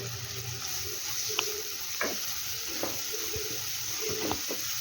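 Finely chopped tomatoes sizzle in hot oil while cooking a sprouted matki (moth bean) curry: a steady soft crackle with a few faint clinks of a spoon against the pan, close and even.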